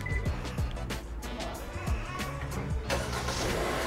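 A 2024 Kia Seltos X-Line fires up by remote start, a short engine crank catching into a steady idle with faint broadband rumble throughout.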